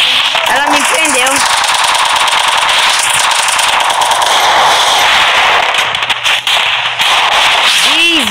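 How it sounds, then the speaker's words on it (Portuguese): Dense, rapid gunfire crackles through a shooting video game, continuous bursts of shots with shouting voices over the top and brief lulls. "Vou te espocar, doido, na bala."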